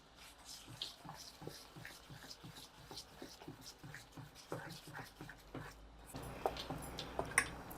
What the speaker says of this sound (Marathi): थोडंसं मी 1-2 चमचे तांदळाचं पीठ घालते आणि हे छान मिक्स करून घेऊया आपण